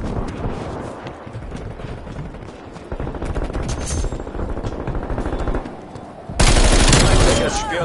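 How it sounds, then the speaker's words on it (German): An anti-aircraft turret in a Call of Duty match fires rapid sustained bursts of loud, dense gunfire that swell into a heavier barrage near the end, mixed with game effects and brief voices. "Bodenluftgeschütz aktiviert."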